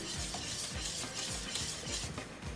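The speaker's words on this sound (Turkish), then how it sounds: "tuz ve karabiber içine ilave ettikten sonra gördüğünüz gibi güzelce bir şekilde şöyle bir karıştırıyorsunuz" Flour roux being stirred with salt and black pepper for a baked sauce pasta, a utensil scraping and swishing through the thick mixture in a steady repeating rhythm over a soft sizzle, close and clear with no talk.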